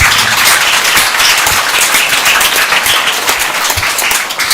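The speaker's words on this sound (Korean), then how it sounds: "박수로 하나님께 영광 돌리겠습니다" A church congregation claps in praise during a Sunday morning Baptist worship service, a dense, steady wash of many hands filling the hall at full volume throughout.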